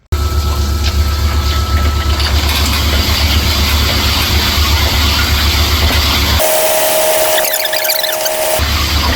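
Cylinder hone fitted with 70-grit roughing stones working inside a cylinder bore of a 5.7 Hemi engine, a loud continuous grinding drone with a low mechanical rumble that cuts out briefly near the end and then resumes.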